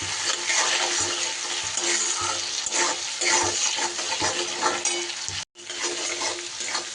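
Diced tomato, salt and ground spices stirred and fried in a pan for an egg curry, giving a steady, close sizzle with scraping stir sounds throughout and one brief break near the end.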